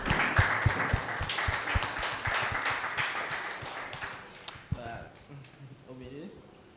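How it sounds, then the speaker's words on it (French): An audience at an event applauds, a burst of sharp irregular claps that thins out and fades, followed by a voice speaking briefly. "On les applaudit, s'il vous plaît."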